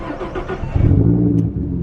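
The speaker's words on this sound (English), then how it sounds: "So now start the car." A supercharged Ford Mustang GT500 cranks and fires up, its engine catching into a loud, close rumbling idle after a short starter whir.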